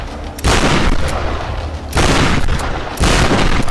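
Gunfire in the Tomb Raider video game, heard as three loud, close blasts of shooting, each a dense burst of crackling reports lasting about a second, separated by quieter rumbling gaps.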